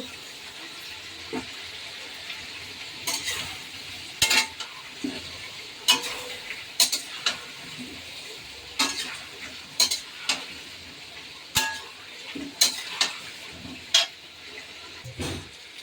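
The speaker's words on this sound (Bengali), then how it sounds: "এবার আলুগুলো দিয়ে দেবো।" Potatoes fry in oil with spiced paste in a pan, a continuous sizzle broken by repeated scraping and clattering stirring strokes at an uneven rhythm, close and fairly loud.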